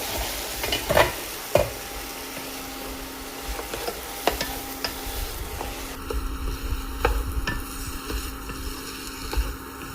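Country chicken curry cooked with rice dumplings in one pot is stirred over a medium flame, with a low sizzle and repeated scraping and knocking of the spoon against the pan, close up and with no talking.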